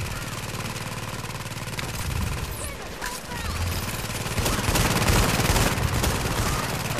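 Gunfire crackles through a firefight in The Division's Dark Zone, with dense automatic bursts mixed with an engine-like drone, moderately loud and continuous throughout.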